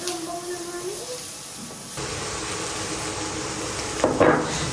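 Onion and garlic sizzle in a hot pan, a steady frying hiss that swells partway through with a sharper burst near the end, while a person speaks over it.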